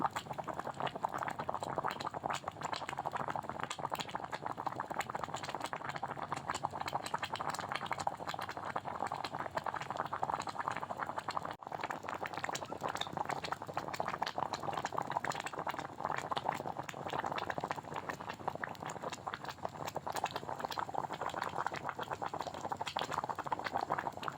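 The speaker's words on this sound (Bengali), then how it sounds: "ডাল কিন্তু বেশ ভালো করে আমার ফুটে উঠেছে" Moong dal with pumpkin and drumstick vegetables boils steadily in a pot, a dense continuous bubbling and simmering that stays even and close for the whole stretch with no talk over it.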